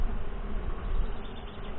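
Calm Saskatraz honey bees hum steadily at an open hive in northwest Wisconsin while being smoked, a dense, continuous close-up buzz with no voices.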